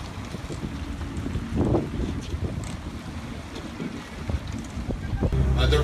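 Wind blowing across a lake beside a hilly shoreline, a steady broadband rush with gusty swells and faint lapping water, fairly close to the microphone and without speech.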